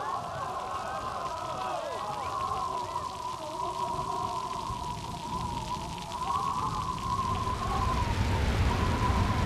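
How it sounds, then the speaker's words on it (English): Steady rain falls continuously in a dense, hissing wash, with a low tonal drone running underneath throughout. "More and more rain fell each day"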